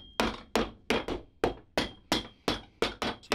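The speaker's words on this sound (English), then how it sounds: "we take the hammer and beat all this down" Sharp hammer blows strike the leather of a Red Wing Iron Ranger boot at a steady pace, beating down the edges, about ten close, loud thwacks with short pauses between them.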